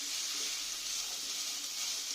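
Chicken pasta ingredients fry in a pan, salted and being stirred, giving a steady, close hiss of sizzling oil that holds even throughout with no voices.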